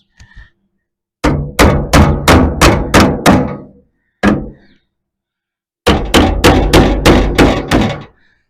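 A dolly hammer strikes a metal fender of a 1933 Chevy in quick rhythmic bursts, about six loud ringing blows, a lone hit, then another run of seven, close and loud.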